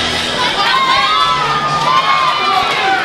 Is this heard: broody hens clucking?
no